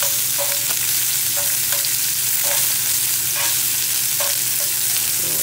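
Shrimp searing in a hot searing skillet, a loud, dense sizzle close up with periodic scraping and tapping as the pieces are moved, and no talking.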